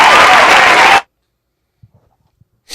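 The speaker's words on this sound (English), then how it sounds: "Yo, let me get some applause for that one." Applause from a podcast studio audience, a dense burst of clapping lasting about a second that cuts off abruptly, followed by near silence with a few faint ticks before noise returns.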